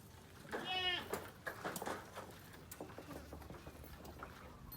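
Goats on a farm bleat, with one clear, wavering call near the start followed by fainter animal noises and background voices.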